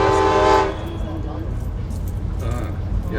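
A scenic passenger train near Conway, New Hampshire backs up on its rails, opening with a brief horn-like toot before settling into a steady low rumble of rolling cars, heard from on board.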